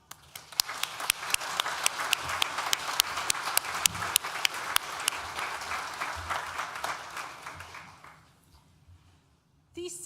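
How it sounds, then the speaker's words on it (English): Audience applause at a university graduation ceremony, a steady wash of many clapping hands with a few sharp, louder claps standing out, holding for about eight seconds before dying away, with a voice starting up at the end. "Please join me in thanking them with a well-deserved round of applause."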